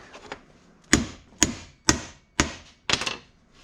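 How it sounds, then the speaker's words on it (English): A metal part for a 2021 Polaris RZR Pro XP 4 suspension being pounded down into a countersunk hole, five sharp, evenly spaced hammer blows ringing close and loud, with a faint softer tap just before them. "So you're going to take this and pound it down into the countersunk spot till it stops."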